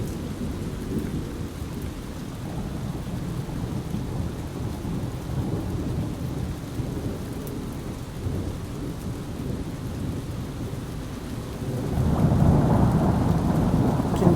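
Steady rain falls over misty water that feels like open sea more than a lake, a dense continuous wash that swells louder near the end, with a low rumble of thunder underneath.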